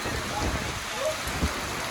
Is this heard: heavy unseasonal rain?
yes